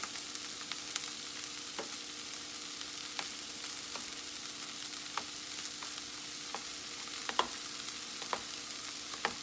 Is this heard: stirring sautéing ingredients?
yes